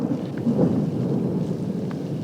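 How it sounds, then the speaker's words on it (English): Steady rain with low rumbling thunder rolling in again outdoors, a continuous loud wash of rainfall under a deep grumble that swells briefly midway. "It's like our rain's coming back."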